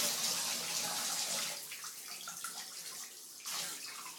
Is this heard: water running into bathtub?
yes